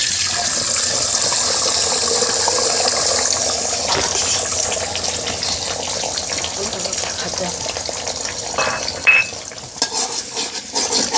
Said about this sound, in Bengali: এখন আমি সবজি ভাজা অবশিষ্ট তেলগুলোর মধ্যে দিয়ে দিচ্ছি আগে থেকে নেওয়া 2টি ডিম।